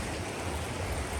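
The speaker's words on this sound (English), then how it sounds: "There's the waterfall with it." A waterfall along a Connecticut trail rushes in a steady, dense broadband roar heard from close by, with no voices over it.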